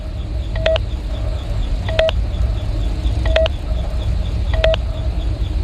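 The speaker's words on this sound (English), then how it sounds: "Please enter your name as seen above the keypad." Keypad tones from the Five Nights at Freddy's video game while a name is typed in: four short, evenly spaced beeps about a second apart, clear over a steady low background hum.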